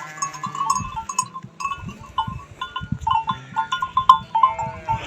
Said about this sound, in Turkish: Belki koyun da susamış ha.